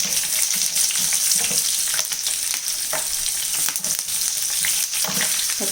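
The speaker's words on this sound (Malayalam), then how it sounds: "അതിലേക്ക് നമുക്ക് അരിഞ്ഞു വെച്ചിരിക്കുന്ന പച്ചമുളക് ഇട്ട് കൊടുക്കാം." Chopped green chillies frying in hot oil in a pan for a fish pickle give a loud, close, continuous sizzle with scattered crackles and stirring scrapes throughout, no talking.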